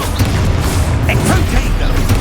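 A Confringo blast spell explodes in the Hogwarts Legacy game on PC, a loud, dense, rumbling boom that fills the whole stretch of sound. A player shouts spell names over it.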